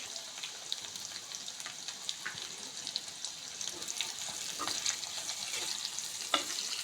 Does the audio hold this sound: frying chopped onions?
yes